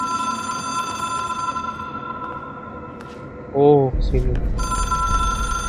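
A telephone in a game rings in one short, bright electronic burst partway through, heard over a droning tonal background, while a person speaks briefly nearby.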